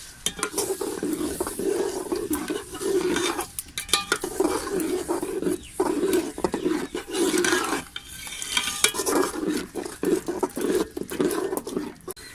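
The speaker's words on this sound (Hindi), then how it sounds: "आप इसमें दही ऐड करेंगे। ये 1 कप बड़ा कप मैंने दही खा लिया था। अब इसे भूनेंगे।" Yogurt gravy being fried and stirred in a pot in a village-style kitchen, with loud, close, repeated scraping strokes of a spoon against metal over a continuous sizzle, alone without talk.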